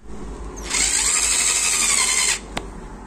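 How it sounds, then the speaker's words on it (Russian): A power tool whirs loudly for about two seconds, driving a stud into an old Toyo car tyre, then cuts off with a single sharp click after it. "Вот здесь я еще старое колесо Тойо решил зашиповать. Ну, тоже зашипую их."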